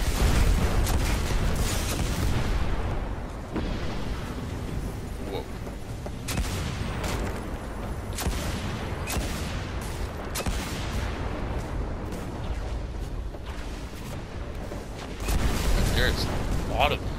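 Scorch cannon fire and heavy explosions in the Destiny House of Wolves final mission on PS4, a dense, continuous barrage of booms and gunfire with louder blasts near the start and end, mixed with game sounds.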